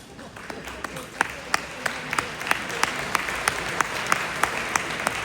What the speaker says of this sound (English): We shall give him a round of applause.